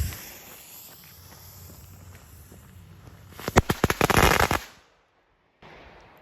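A Jumbo M5000 firework set off outdoors by a river after the Fourth of July: a fizzing fuse hiss builds to a rapid burst of loud, crackling bangs, then sudden quiet before faint ambient noise returns.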